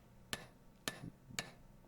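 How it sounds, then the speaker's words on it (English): A wedge is struck into the handle of a cross-peen hammer, giving four sharp evenly spaced metallic blows, close and alone against a quiet background. "here's a less temporary solution: banging the shit out of the wedge."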